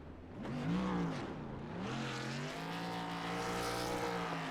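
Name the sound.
race truck doing a burnout after the race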